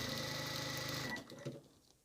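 A sewing machine runs steadily, stitching the top edge of a fabric kitchen mitt, its close, even whir lasting about a second before it stops and a few small handling sounds follow.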